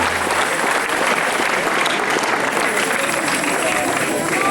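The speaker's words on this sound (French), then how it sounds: "On peut les applaudir." A crowd applauds at the inauguration of the new arena theatre in Saint-Christol, thick continuous clapping with a loud, even texture throughout, some cheering mixed in.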